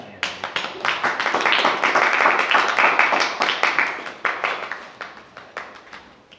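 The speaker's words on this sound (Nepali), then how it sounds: "ताली बजाएर" A church congregation claps hands together in a lively burst of rhythmic applause, close and loud at first, then thinning into scattered claps as it fades out.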